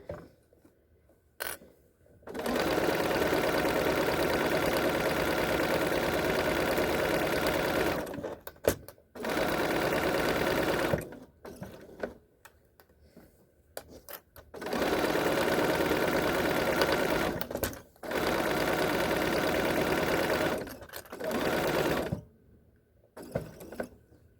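A sewing machine stitches a crossbody bag in several long, steady bursts of close whirring, separated by short pauses with faint handling noises.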